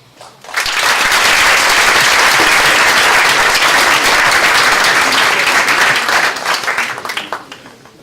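Loud, sustained applause from a large conference audience, rising quickly, holding steady as dense clapping for several seconds, then thinning out and fading.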